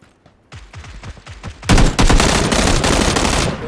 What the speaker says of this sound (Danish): Nej, han skyder mig